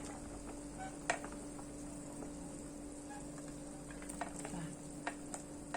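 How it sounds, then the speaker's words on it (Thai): A pot of bamboo shoot and pork soup at a rolling boil gives a quiet, steady bubbling hiss with occasional soft pops and ticks. "น่อไม้กับหมูแม่ติ๋มเดือดขึ้นมาอีกรอบแล้วนะคะ"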